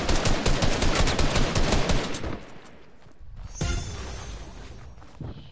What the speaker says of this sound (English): Shooting around.